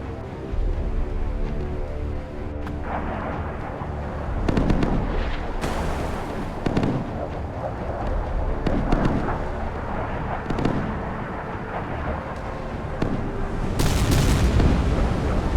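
Missiles strike warships in the naval combat game Sea Power after a volley from Kirov and Slava cruisers: a series of loud, booming explosions and crackling blasts rolling over each other throughout.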